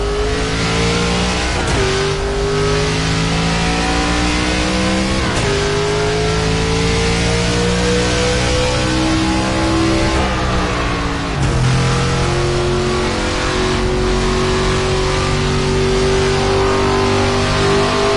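A NASCAR race car engine in the video game NASCAR 25 roars loud and steady throughout, revving up through the gears with rising pitch and dropping back at each shift, close and continuous with no talking.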